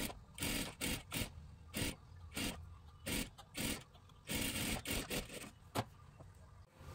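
A sewing machine stitches along a dress neckline in short rhythmic bursts of whirring, starting and stopping repeatedly at close range with brief pauses between runs, no speech.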